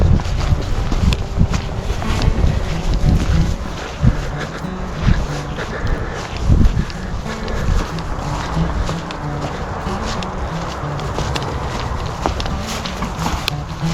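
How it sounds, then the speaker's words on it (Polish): Steady wind buffets the microphone with low rumbling gusts in a muddy rural area, with faint rustling of fur and movement noise underneath. "Taki trochę słaby wiatr, ale jest."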